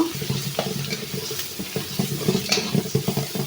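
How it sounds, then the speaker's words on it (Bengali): Spices fry in hot oil for a taro and hilsa fish curry, giving a busy crackling sizzle broken by repeated scraping stirs of a spatula, close and continuous with no talking. "এখন আমি এগুলো ভালো করে তেলের সাথে ভেজে নেব"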